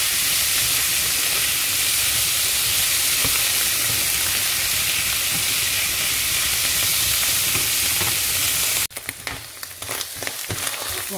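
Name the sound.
stirring mushrooms browning in a pan for sauce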